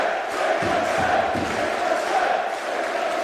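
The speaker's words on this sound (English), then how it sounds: "Listen to this ovation. Already they're on their feet." A wrestling crowd in Manchester roars an ovation at a Pro Wrestling World Cup quarter-final match, rising to its feet. Broad, sustained cheering fills the arena at moderate distance, with a few shouts near the start.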